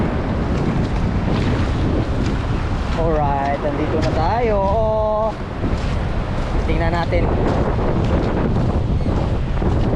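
Strong wind buffets the microphone over a steady rush of water and waves at a river mouth, with someone speaking briefly partway through.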